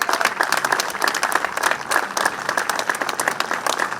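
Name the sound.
applause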